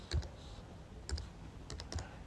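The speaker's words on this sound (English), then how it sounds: "we typing there" Typing on a PC computer keyboard, a few quick clusters of sharp plastic key clicks close by, spaced about a second apart with quiet gaps between.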